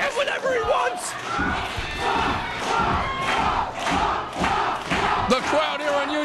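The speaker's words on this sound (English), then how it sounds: "The crowd here in Union City is rabid." Rabid wrestling crowd in Union City at an independent show, loud continuous yelling and chanting with thuds and slams, a commentator's voice talking over the roar.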